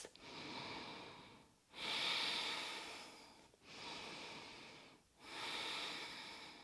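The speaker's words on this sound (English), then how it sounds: "2 belly breaths." Slow, deep belly breaths during a yoga flow: two long airy inhale-exhale cycles, each soft hissing breath swelling and fading, close and quiet, with no talk.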